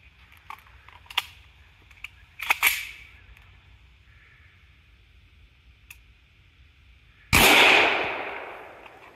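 A CZ Bren rifle fires an XM855 green tip round at body armor, one sharp, loud gunshot with a ringing decay, after several faint clicks and ticks in a quiet outdoor setting.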